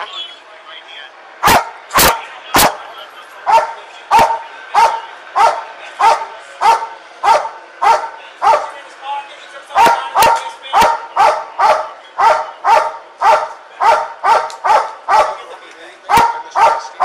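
A dog barks loudly and repeatedly in a steady rhythm of sharp bursts, close by during a Los Angeles police search, with a few louder clicks or thumps near the start and later on.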